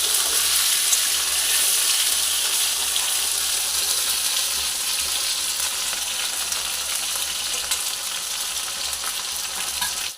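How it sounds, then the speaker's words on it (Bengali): Potatoes fry steadily in hot oil, a bright continuous sizzle close by with no voices, fading out right at the end. "যতক্ষণ আলুগুলো ভাজা ভাজা না হবে ততক্ষণ আলুগুলো এইভাবে ভেজে যেতে হবে"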